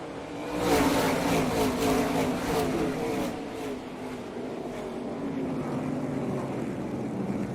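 ARCA stock cars racing at Milwaukee right after a restart, a roaring pack of engines swelling loudly near the start and then holding as a steady, broad drone as the field passes.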